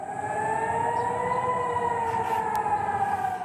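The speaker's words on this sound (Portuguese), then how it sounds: "Os ataques iranianos fizeram soar as sirenes em Tel Aviv e Jerusalém." Air raid sirens wail over Tel Aviv and Jerusalem during Iranian missile attacks, a loud sustained tone with slowly rising and falling pitch over steady background noise.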